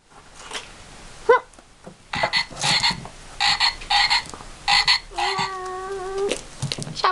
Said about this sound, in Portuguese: Cadê o sapo? Cadê o sapo, Inaê?